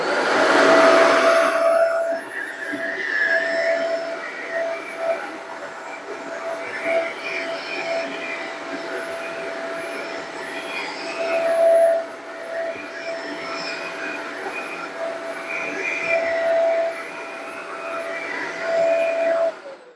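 A Shark Apex AZ1002 vacuum cleaner runs on an area rug, giving a steady close whir with a tonal whine and brief surges as it is pushed back and forth.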